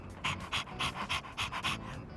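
A dog in Persona 3 Reload pants close and steady, about eight quick rhythmic breaths in a row with no talk over them.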